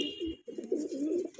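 A white Punjabi Malwai pigeon coos close by in rolling, throaty phrases broken by a brief pause, with soft rustling underneath and no one speaking.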